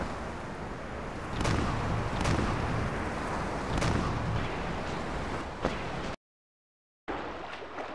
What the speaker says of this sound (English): We have to practice target shooting.